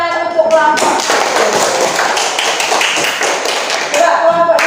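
A classroom of students applauds a student group, a dense burst of many hands clapping for about three seconds between short stretches of a teacher's voice.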